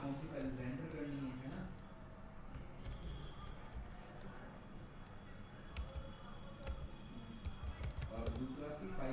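Keys on a computer keyboard clack in quick irregular bursts at a moderate distance, while someone talks over the typing.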